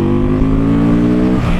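A WMOTO Morbius motorcycle engine pulls hard under acceleration on a test ride, a loud, steady rising drone with dense harmonics that shifts slightly near the end.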